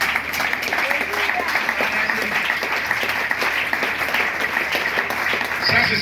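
A church congregation in Pointe-Noire bursts into sustained, loud applause, many hands clapping densely for about six seconds with voices mixed in.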